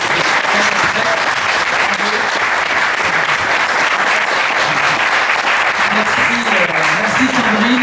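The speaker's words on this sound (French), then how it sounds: "Je vous propose de réserver une partie de nos applaudissements à Marie-Caroline Volzegelen" Sustained audience applause fills an evening event in Paris, dense and steady throughout with faint voices mixed into the clapping.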